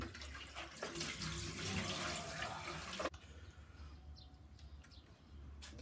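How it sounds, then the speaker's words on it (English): Tap water runs steadily while cooked crab is rinsed in a sink, a loud gushing stream that cuts off abruptly midway, leaving faint room ambience with light chirps behind. "Rinse out some of the green water."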